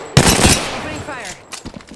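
Gunfire from Apex Legends erupts in a loud burst of rapid shots up front, followed by a few quieter trailing pops, with game voice chatter mixed in.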